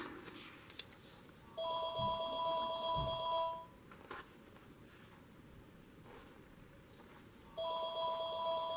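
An electronic phone ringtone sounds twice in separate bursts, each lasting a couple of seconds, with quiet room noise and faint knocks in between.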